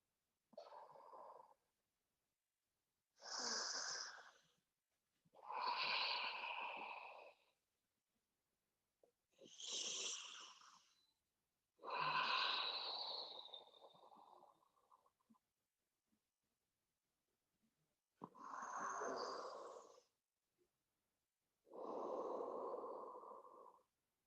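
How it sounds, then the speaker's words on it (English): Deep yoga breaths, slow inhales and exhales through nose and mouth, each a soft close airy rush lasting a couple of seconds, separated by quiet pauses, repeated about seven times with no talking. "Give yourself 3 deep breaths here."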